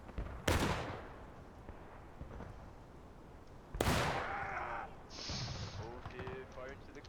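Two heavy volleys of gunfire in a multiplayer line-battle video game event, each a broad booming crack fading into a rumbling tail, with a voice talking between and over them.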